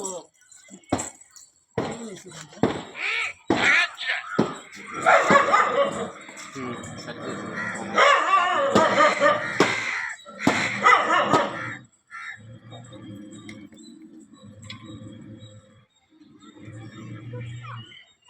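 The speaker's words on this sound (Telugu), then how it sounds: "కుక్క కరుస్తాయి" Dogs bark in a series of sharp, loud bursts, some overlapping, followed by people talking nearby.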